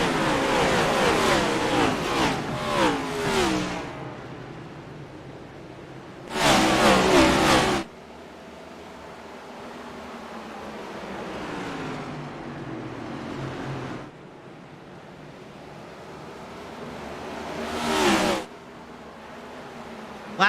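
Race cars in the iRacing video game roaring past at the start of a race, a loud engine burst early, a sharp pass around seven seconds and another near the end, with steady engine drone between.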